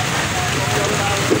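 Steady rain pouring at an outdoor night market in Sa Đéc, Đồng Tháp, a dense continuous hiss and patter filling the scene, loud and unbroken.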